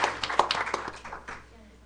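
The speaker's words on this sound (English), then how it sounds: "let's give him a round of applause" A small audience at a school board of education meeting gives a brief smattering of applause that thins out and fades after about a second, with some chatter in the room.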